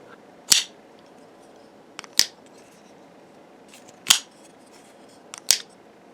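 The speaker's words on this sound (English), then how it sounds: "They make a great noise when you get the blade out and put the blade away." Spyderco Para 3 LW folding knife with a CTS-BD1N blade snapping open and shut: four crisp, loud, close clicks at uneven intervals against a quiet background.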